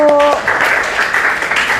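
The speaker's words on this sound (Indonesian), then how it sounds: "Baik, tepuk tangan buat kelompok 1." Classroom applause for a presenting student group, a short patter of clapping right after a teacher's voice, fairly close and loud.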